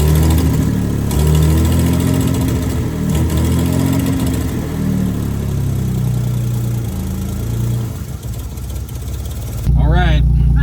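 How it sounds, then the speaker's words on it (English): A project car's engine runs at idle with a steady, loud mid-pitched drone and uneven harmonic wavering, while people talk over it nearby; near the end a brief burst of other noise intrudes. "We got the engine running."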